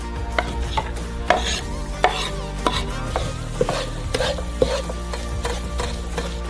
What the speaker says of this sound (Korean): 가스레인지에 프라이팬을 넣고 기름을 두르고 양파를 볶아줘요.